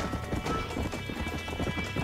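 Rapid rhythmic hoofbeats of a galloping horse in the video game Red Dead Redemption, steady and close, with a faint background wash under the pounding clip-clop.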